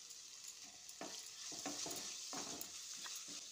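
Tomatoes and onion sauté in a pan with cashews, green chilli and mint for a stuffed aloo dum, a steady sizzle broken by repeated scraping stirs of a spatula, close and moderately loud with no talking.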